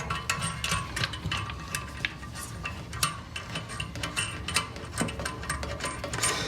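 A nut being tightened onto a bolt with a hand tool to seal a fitting, heard as close, irregular metallic clicks and ratchet-like ticks spread across several seconds.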